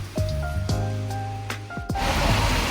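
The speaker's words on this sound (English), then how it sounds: "It's raining really badly" Heavy rain in Sydney hisses steadily and grows louder partway through, with a few short tonal chirps and knocks over it.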